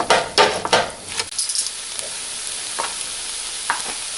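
Chickpeas being mashed in a frying pan while cooking chana masala, with a few scraping, stirring strokes over a steady sizzle that fades to a quieter hiss.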